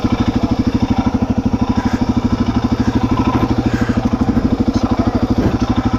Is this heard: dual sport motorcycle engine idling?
yes